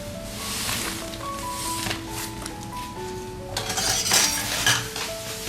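Dumplings filled with winter melon are dropped into a pot of boiling water and stirred, with clinks and scrapes of a utensil against the pot and a brief louder splash and rustle near the end.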